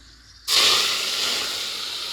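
Cinnamon and cloves dropped into hot oil: a sudden loud sizzle bursts in after a quiet start and continues as a steady, close hiss that slowly eases.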